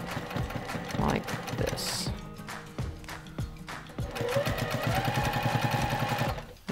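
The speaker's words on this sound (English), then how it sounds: "And then you stitch down the very edge of the selvedge." A sewing machine stitches down the selvedge edge of fabric overlapped onto another piece, running in steady rapid bursts with brief pauses, close by, as a person talks briefly.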